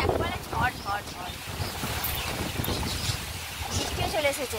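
Strong stormy wind blows outdoors and buffets the microphone with a heavy, continuous rumble and roar. A person talks over it.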